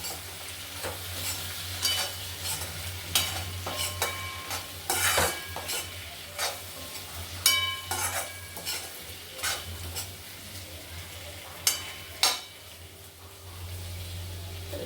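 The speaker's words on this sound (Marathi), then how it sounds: "आता आपण मिक्स करून घेऊया" A spoon stirs red chili powder through potatoes frying in a pan, with steady sizzling and repeated scraping and clinking against the pan over about fifteen seconds, close and moderately loud, no talk.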